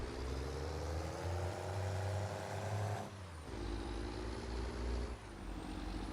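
Truck with air brakes in Farming Simulator 22, a steady engine drone with tonal whine, a sudden hiss-like release of the air brakes midway, then the engine continuing at a lower pitch.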